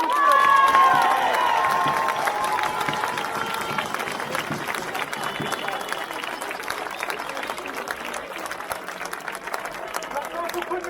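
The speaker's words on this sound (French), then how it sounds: "Applaudissez-les, s'il vous plaît." A crowd at an outdoor protest against health measures claps and cheers loudly. The applause starts strong and then holds as a dense, steady patter for about ten seconds.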